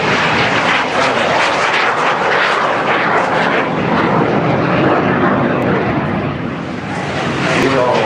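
A loud, steady roar of a jet aircraft engine fills the whole stretch, broadband and constant with no pauses.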